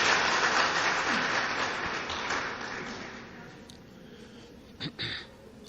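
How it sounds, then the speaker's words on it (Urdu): A crowd at an organic honey exhibition in Pakistan applauds loudly and steadily, the clapping gradually thinning out and fading, followed by a couple of faint bumps. "بھرپور تالیوں میں ان کا استقبال کریں"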